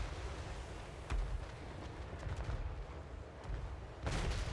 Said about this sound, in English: there it is. Off-map artillery support.